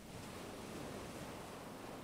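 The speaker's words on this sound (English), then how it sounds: "and you can hear the ocean" Ocean waves wash steadily onto a beach in a soft, continuous hiss of surf with no distinct breaks. The sound is faint and evenly spread, with no voices.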